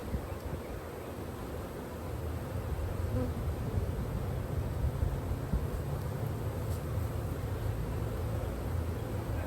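A swarm of honeybees buzzes at a hive in a dense, steady drone, loud and close, continuous throughout with no pauses or talk, as frames are put back into the hive box.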